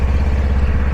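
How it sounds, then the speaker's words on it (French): A motorcycle engine idles steadily at close range, a low, even rumble with regular pulsing and no talk over it. "Je démarre mon moteur,"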